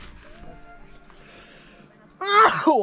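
A single sharp sneeze bursts out near the end after quiet rustling outdoors on a mountain trail, close and loud against the calm background.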